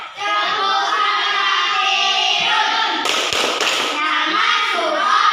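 Schoolchildren in a classroom clap rhythmically along to a chant about Surah Al-Kafirun, with young voices chanting loudly throughout and a brief burst of sharp taps in the middle.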